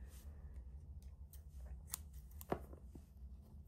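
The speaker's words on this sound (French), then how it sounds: "sauf qu'ici le fil blanc, on va le couper" Scissors snip white crochet yarn, with a couple of faint, quick cuts followed by one sharper, clear snip close by in a quiet room.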